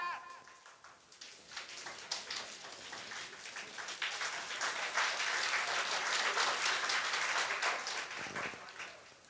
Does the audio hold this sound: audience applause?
yes